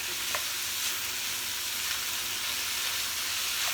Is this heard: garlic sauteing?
yes